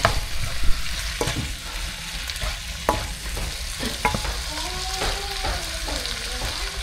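Egg is stirred into ampalaya (bitter gourd) frying with tomatoes in a pan, with a spatula scraping and clacking in irregular strokes over a soft sizzle, close up and without talk.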